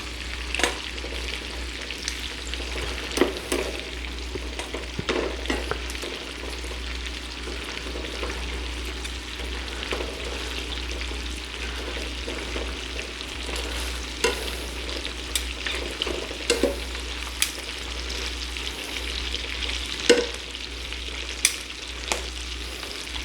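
Garlic butter shrimp frying in a pan, a continuous close sizzle and crackle with scattered pops and occasional clinks of a utensil against the pan, over a low steady hum, no talking.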